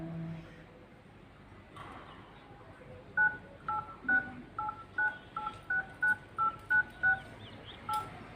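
A telephone number is punched in on a keypad, roughly a dozen short evenly spaced tones beeping in quick succession over a quiet indoor background, with faint low murmuring in the first few seconds.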